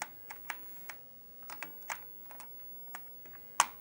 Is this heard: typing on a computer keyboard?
yes